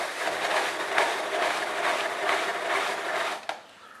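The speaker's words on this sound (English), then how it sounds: "I was searching for a good coconut grating device, and this is like awesome" A rotating vegetable grater shreds coconut with a close, ratcheting, scraping churn that rises and falls in rhythmic pulses for a few seconds, then ends with a short clack.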